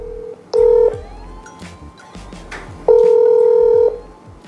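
A phone dials out before a call, giving two long steady tones, the second starting about two seconds after the first ends. Short key beeps and faint room noise sit in the gaps, and no one speaks.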